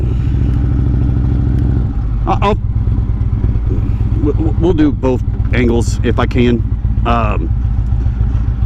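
A motorcycle engine rumbles steadily up close while riding as someone talks over it, with a few brief clattering bursts scattered through.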